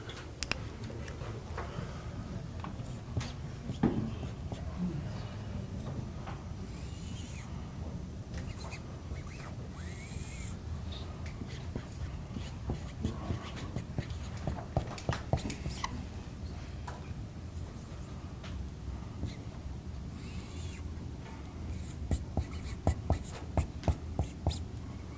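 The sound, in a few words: writing out a math solution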